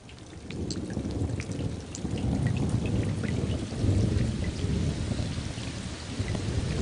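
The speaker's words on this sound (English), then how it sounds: "This happens every time a raindrop hits a puddle." Heavy rain falls onto a puddle and surrounding surfaces, a dense, steady patter with low rumbling underneath, constant and fairly loud with no voices.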